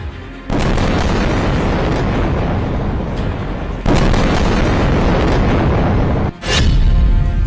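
Heavy blasts from Israeli strikes on Gaza: loud booming explosions, one sustained roar after another, with three sharp onsets and a rumbling tail each time.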